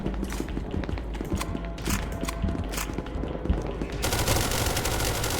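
Rapid automatic gunfire from the video game SCP Secret Lab rattles in dense bursts, near and loud, continuing into a sustained barrage for the last second or so.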